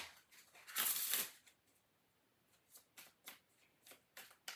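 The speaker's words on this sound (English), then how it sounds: "One more shuffle." Tarot cards shuffled by hand, one loud close riffle burst followed by a series of softer, evenly spaced card flicks in a quiet room.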